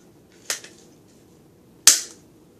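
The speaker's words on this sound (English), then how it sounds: "It shoots one at a time with 2 bullets, for example." Nerf Zombie Strike toy blaster fired twice, two sharp close snapping shots about a second and a half apart, each with a brief rattling tail, in an otherwise quiet room.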